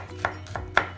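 Three sharp, evenly spaced chops of a kitchen knife cutting garlic on a cutting board, close and distinct, over a steady low background hum while Korean food is prepared.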